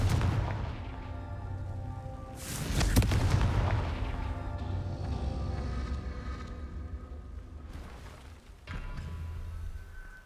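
The Confringo fire spell in Hogwarts Legacy bursts into a booming explosion, a sharp blast followed by a rumbling fiery tail and another softer boom near the end, amid a steady game soundscape.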